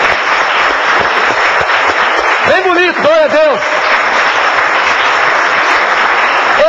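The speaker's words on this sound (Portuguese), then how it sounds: "Vamos dar uma salva de palmas ao Senhor Jesus." Church congregation clapping in a steady, dense wash of applause that fills the whole stretch, with a voice speaking briefly over it partway through.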